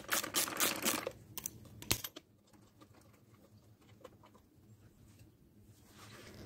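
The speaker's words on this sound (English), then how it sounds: "then you take your socket and pull the spark plug out" A socket wrench works a spark plug out of an Echo trimmer engine, giving a loud burst of close metallic rattling and clicking followed by quieter, scattered ticks and handling noises.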